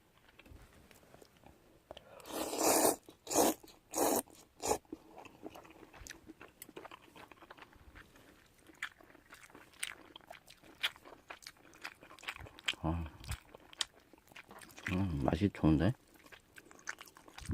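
Someone eats Nongshim seaweed chojang bibim noodles close to the mic, with slurps and chewing in a few bursts. A voice speaks quietly in between the bites.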